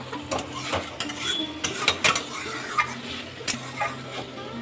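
Spice masala for a pointed gourd dish is stirred and sautéed in a pan, with repeated clinks and scrapes of a spatula against metal over a low sizzle; no voices.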